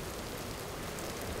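Steady, soft rain patters down inside a house in the game Vintage Story, an even hiss of drops alone without voices.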